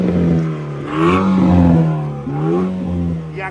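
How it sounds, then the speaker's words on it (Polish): A Renault Megane Trophy RS with a 350 hp engine revs through its stock exhaust, the engine note rising and falling in loud, close, sustained blips with no voices. "Mamy tutaj teraz test tłumików."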